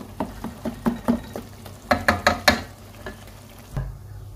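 Onions being stirred in a pot over low heat for Moroccan couscous, giving a series of soft scraping and knocking strokes with a spoon, close and moderately loud, with a faint sizzle underneath and no talk.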